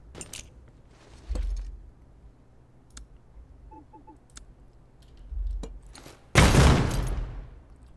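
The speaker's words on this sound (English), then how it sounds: "Secondary explosion again, this time from the likely gas oven." In the Door Kickers 2 video game, a gas oven goes off in a secondary explosion: a sudden, loud, broad blast near the end, after scattered thumps and sharp cracks of distant gunfire.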